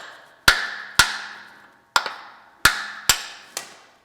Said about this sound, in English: He's just taking a punch and a blow hammer and just going to try and knock those out